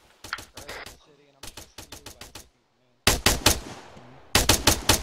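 M4 rifle fire in a mock firefight: rapid bursts of sharp gunshots in quick strings, broken by short pauses, loud and close, with a louder stretch of repeated shots near the end.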